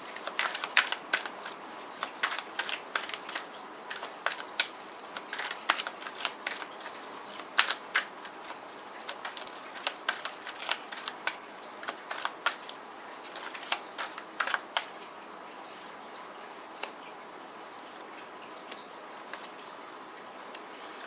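Tarot cards are shuffled and drawn for a reading. Crisp, papery riffles and snaps come close and fairly quiet in irregular bursts, then thin out to sparse clicks toward the end.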